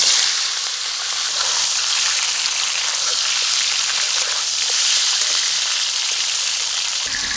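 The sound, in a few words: turmeric-coated chicken frying in mustard oil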